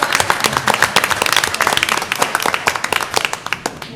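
Meeting attendees clap for a communications team, loud close rapid clapping from a room of people, dense and continuous for a few seconds.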